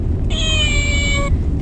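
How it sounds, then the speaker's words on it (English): A cuddly cat toy with green laser eyes gives one sustained electronic meow lasting about a second, loud and close, over steady background rumble without talk. "That is a meowing cat with green laser eyes"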